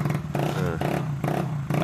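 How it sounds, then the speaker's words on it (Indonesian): Honda Vario 110 scooter with an ignition fault, engine running after being kick-started, a pulsing clattery idle that rises and falls in repeated bursts, moderately close. "kita hidupkan, dan ternyata ini motor bisa langsung hidup teman-teman"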